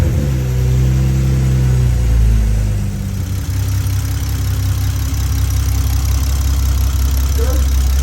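A Toyota Supra A90 with a freshly installed turbo kit runs close by, a loud, steady low engine rumble that settles into an even idle after an initial higher revving burst, with no talk over it.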